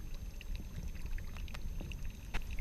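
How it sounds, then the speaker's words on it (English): Water is let out of a turbidity tube, and small splashes and trickles drip and patter irregularly against a low background rumble, with no talking. "I'm going to let out water until I can see the disc again."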